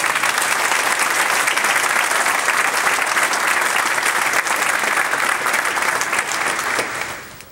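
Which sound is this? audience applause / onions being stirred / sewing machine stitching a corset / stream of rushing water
audience applause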